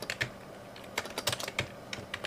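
Quick, irregular clicks of typing on a computer keyboard, close and crisp, with short pauses between bursts of keystrokes and no voices.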